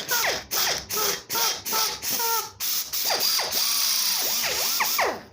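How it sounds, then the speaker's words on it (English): A small electric drill bores a 10mm hole through a BSA Bantam exhaust silencer, whirring in a string of short stop-start bursts before settling into longer, rising and falling whines. "I'm not sure my little drill will have the minerals to put this 10mm through"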